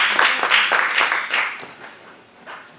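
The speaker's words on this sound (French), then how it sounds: "Je vous demande de l'applaudir." A conference audience at a university lecture on international criminal justice claps, loud, close bursts of hand claps at first that thin out and fade toward a few scattered claps at the end.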